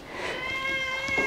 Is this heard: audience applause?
no